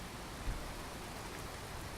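Pouring rain in the Skyrim video game, a soft, even wash of rainfall heard faintly and steadily with a single small thump partway through.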